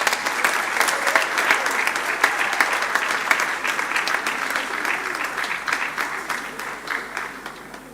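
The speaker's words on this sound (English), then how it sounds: "Round of applause for him, please." Steady clapping from a seated crowd at a school graduation prize-giving ceremony, an even round of applause lasting several seconds before tapering off gradually.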